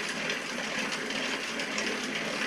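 A damaged freewheel hub on a bicycle grinds with a continuous rough, whirring rasp, close and fairly loud and steady throughout, with no talking.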